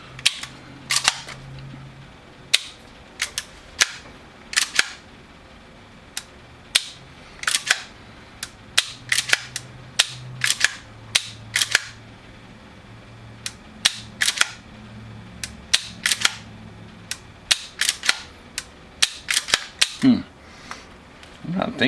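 An airsoft gun fitted with a UAC hop-up fires repeated sharp single shots at an irregular pace, each a crisp snap, with a low voice murmuring between some shots.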